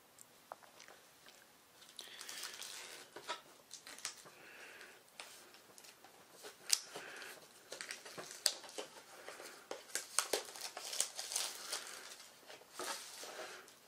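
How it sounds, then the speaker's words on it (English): An X-Acto blade slices open the packaging of a Teckin SP25 smart plug: quiet, close, irregular scratchy crackles and crunchy cuts that grow busier and sharper toward the end, with no talking. "I'm going to take an X-Acto blade and cut this open"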